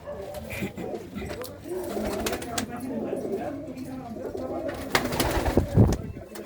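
Pigeons coo in a loft in Punjab, a prize-winning bird from Haryana among them, with soft repeated coos close by under men's steady conversation.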